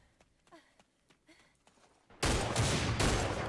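Gunfire in an online shooting game: a few faint clicks and small sounds, then a sudden loud burst of rapid automatic shots that continues steadily to the end.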